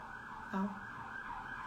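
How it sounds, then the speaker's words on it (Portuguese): An ambulance siren sounds outside, a steady wailing tone running throughout at moderate distance, with a brief louder bump partway through. "Eu e a ambulância aqui."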